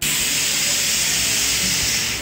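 Pressure cooker cooking lentils, letting out a loud, steady, close hiss of escaping steam that holds without a break, with no talking over it.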